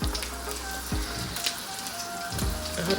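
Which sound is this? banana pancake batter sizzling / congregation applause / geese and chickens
banana pancake batter sizzling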